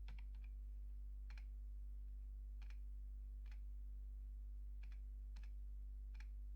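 Keys tapped on a computer keyboard to enter a rate, a sparse run of soft clicks in small groups over a steady low electrical hum, quiet and close.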